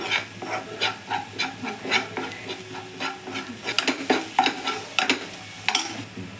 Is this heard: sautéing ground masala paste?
yes